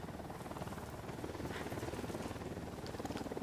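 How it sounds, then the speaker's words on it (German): Drone hovering overhead in Ghost Recon Wildlands, a steady rapid buzzing rotor hum held throughout at moderate level with no talk. "Und die Drohne ist oben."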